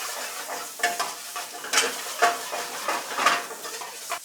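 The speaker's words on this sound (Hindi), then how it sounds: "तो पनीर भी भुन चुका है" Grated paneer fries in a pan among minced ingredients, with a steady sizzle under repeated scraping strokes of a spoon roughly every half second.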